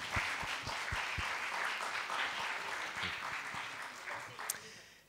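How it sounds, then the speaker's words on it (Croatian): Audience applause at a café talk event, sustained even clapping at moderate distance, steady and fading slightly toward the end, with a few louder close claps early on. "Molim vas jedan aplauz."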